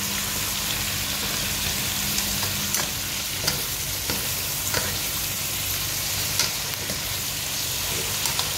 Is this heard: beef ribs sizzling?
yes